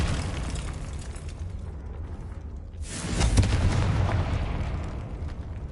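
A Confringo spell explodes in a Harry Potter video game. A sudden loud, broad blast hits midway and gives way to a long rumbling roar, over a continuous noisy game backdrop.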